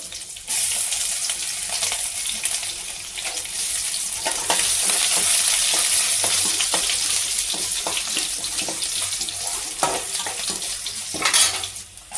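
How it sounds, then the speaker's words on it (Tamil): Mustard seeds, urad dal and dried red chillies sizzling in hot oil in a pan, a steady bright crackling hiss with sputtering pops and occasional utensil clinks, no voices. "வானல் வச்சுட்டு எண்ணெய் காஞ்ச உடனே கடுகு போடணும் உளுத்தம் பருப்பு போடுங்க காஞ்ச மிளகாய் போட்டுக்கோங்க"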